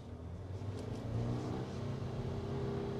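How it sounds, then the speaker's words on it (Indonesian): A 2022 Wuling Almaz RS Hybrid's engine revs steadily under acceleration, a continuous mid-pitched drone with a rising whir, fairly close and uninterrupted. "Sedikit ada suara raungan ya karena mungkin mesinnya juga"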